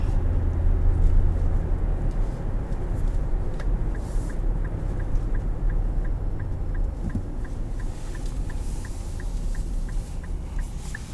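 A 2023 Infiniti QX80 with the 5.6 engine hums as a steady low rumble from inside the cabin, with a faint regular ticking running through the middle and no talking.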